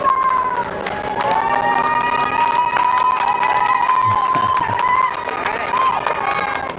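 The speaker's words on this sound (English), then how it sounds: "Small crowd, but big cheers." A small crowd cheers and whoops continuously, voices shouting over one another with a few claps, lively and fairly close.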